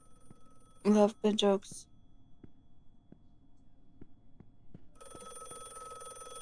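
A video game telephone rings with a bright, sustained electronic tone that starts partway through and continues steadily to the end, after a short spoken line and a quiet ticking stretch.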